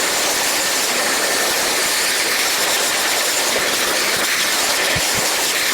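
A Dyson Airwrap hair styler blows steadily while drying hair, a loud, constant broadband whoosh held close and unbroken throughout, with no talking.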